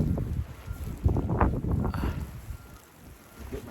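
Blizzard wind in Cheyenne roars hard against the microphone in steady, rumbling gusts that fade a little toward the end. It is loud and close, with no clear speech.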